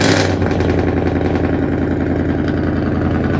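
A 3400 cc diesel jeep engine idles steadily close by, a low, even chugging rumble with a faint mechanical clatter throughout.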